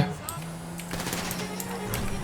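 Gunfire rings out in GTA V city mayhem, a rapid string of sharp shots and bursts at moderate loudness, with voices talking over the shooting throughout.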